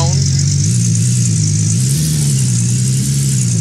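Steady mid-pitched car engine drone as a vehicle pulls a trailer in a gold-mining video game, a continuous hum that shifts pitch slightly as it drives, with a voice talking over it.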